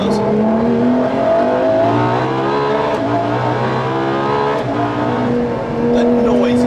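A LaFerrari's high-revving engine accelerates hard in second gear out of a hairpin, pitch climbing steadily with a loud, continuous roar close by.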